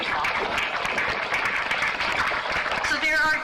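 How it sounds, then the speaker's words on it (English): A crowd claps at a Chilliwack ribbon-cutting and First Nations welcome ceremony, with steady dense applause running throughout while a voice talks over it. "you can clap for yourself"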